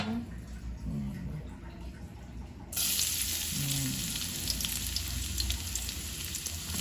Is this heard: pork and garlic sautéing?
yes